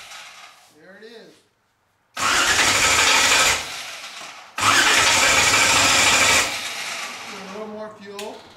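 A Brogie car engine, its injector just primed and ignition on, cranks and catches in two loud bursts of roaring starter and engine noise, separated by a short silence, then settles. Brief voices are heard around it.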